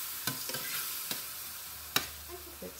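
Cuban picadillo cooking in a pan gives a quiet, steady sizzle, broken by a few sharp clicks of a spoon or spatula stirring against the pan.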